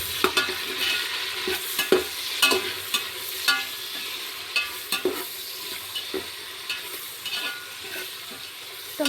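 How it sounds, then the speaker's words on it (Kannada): Tomatoes fry in a pan for egg biryani, a continuous sizzle broken by repeated sharp scrapes and clanks of a spoon stirring against the pan, close and fairly loud with no talking. "ಟೊಮೆಟೊನ ಚೆನ್ನಾಗಿ ಫ್ರೈ ಮಾಡ್ಕೊತಿದ್ದೇನೆ"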